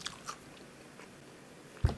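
Crunchy Korean fried chicken is bitten and chewed up close, giving a few soft crispy crunches followed by a sharp bite near the end.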